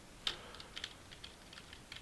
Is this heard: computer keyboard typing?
yes